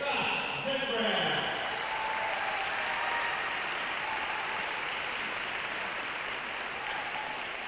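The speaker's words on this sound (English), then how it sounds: "let's give one more round of applause for our seniors and our parents" Crowd applause at a high school boys basketball senior night fills the gym, a dense, steady clapping that stays fairly loud from start to finish with no break.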